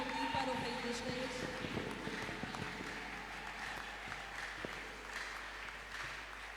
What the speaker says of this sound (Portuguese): podemos aplaudir para o Rei dos Reis?